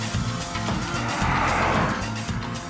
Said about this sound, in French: ça se passe plutôt très bien en termes d'accélération